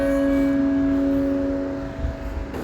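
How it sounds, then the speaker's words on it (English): A church bell hums with a long, sustained ringing tone, steady and resonant, fading slightly over a couple of seconds against a low background rumble. "The bells tolled on the life of Petronella as she awaited her fate"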